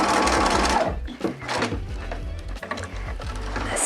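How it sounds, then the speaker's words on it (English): A domestic sewing machine reverse stitches through fabric, its steady fast mechanical chatter running close and loud for a few seconds, slowing briefly mid-run before picking up again. "And reverse stitch to finish."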